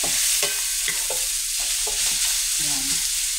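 A spoon scrapes and stirs pork and mixed vegetables in a hot pan, sizzling steadily beneath a rhythm of distinct scraping strokes repeated roughly every half second, close and clear with no voices.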